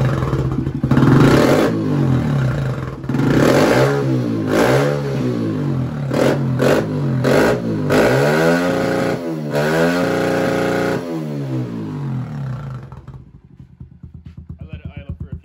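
Kawasaki KLX110 dirt bike engine running nearby and revved repeatedly, the loud pitch rising and falling in waves before settling to a quieter idle at the end.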